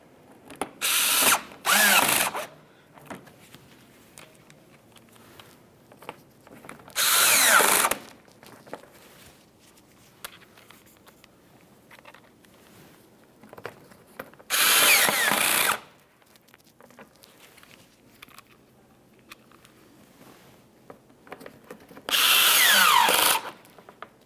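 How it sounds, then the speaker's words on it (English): A power drill drives Phillips head screws under the front bumper cover of a 2012-2018 Nissan Altima in four short, close bursts separated by quiet pauses and faint handling noises. "Continue on with your Phillips head screws."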